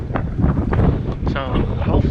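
Gusty wind buffets the microphone while people fish from kayaks on open water on a windy day, giving a rough, loud rumble in uneven bursts while someone talks over it.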